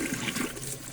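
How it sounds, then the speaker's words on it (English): Warm water running steadily for cleaning a Salter dual air fryer, a continuous close rush of pouring liquid with no talk. "get a bit of warm water,"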